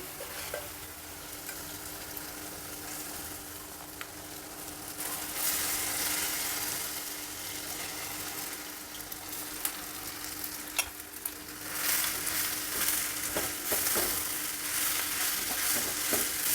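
Cooked rice being added and stirred into frying garlic masala in an oiled pan for garlic rice, with a continuous sizzle that swells louder partway through and occasional spatula scrapes, no talking.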